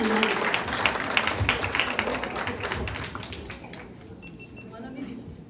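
Clapping at a Mangalagaur puja gathering: a scattered, fairly close patter of hands that thins out and fades after a few seconds, with voices murmuring alongside.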